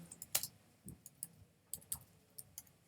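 Keys tapped on a computer keyboard while entering text in image-editing software, a quiet, uneven run of light clicks and taps close by.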